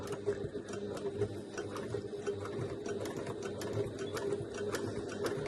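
Sewing machine running steadily while stitching a seam on a large messenger crossbody bag, a close, continuous mechanical whir with rapid even needle ticks and no talking.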